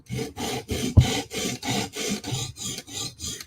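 A knife edge is worked on a sharpening stone with about nine steady, evenly spaced rasping strokes, close and clear, with no talking.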